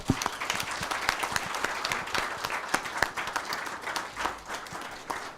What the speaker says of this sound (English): may I request all of you to give him a big round of applause